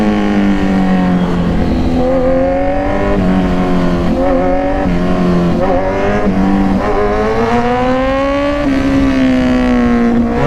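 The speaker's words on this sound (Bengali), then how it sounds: "ব্যাকফায়ার আওয়াজটা ভাই আলাদাই আওয়াজ, আলাদা।" A motor vehicle engine runs hard with rising and falling revs, a loud continuous close drone with harmonic whine and occasional sharp pops like backfire, no voices over it.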